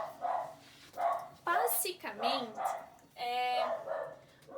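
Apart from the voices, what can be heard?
dogs barking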